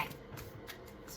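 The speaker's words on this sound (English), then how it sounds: "Get a little bit more of a shuffle." Playing cards shuffled during a tarot-style reading, a soft riffling rustle with several brief fluttering bursts over a steady low room hum, fairly quiet and close.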